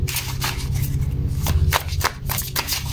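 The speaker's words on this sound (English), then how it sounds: "Okay, the cards are shuffled." A deck of tarot cards is shuffled by hand close up, making a rustling, flicking run with a few sharper snaps, under a steady low background hum.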